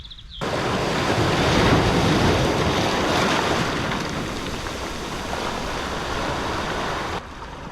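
Sea waves break along the Scottish coast near ancient cave dwellings, a loud, steady roar of surf mixed with wind buffeting the microphone, heard alone without any talk.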